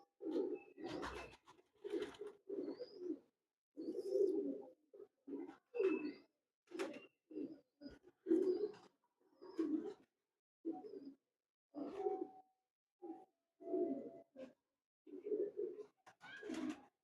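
Teddy pigeons coo in repeated soft, rounded phrases at close range, each call separated by brief silences, with an occasional higher chirp and light handling noise between them.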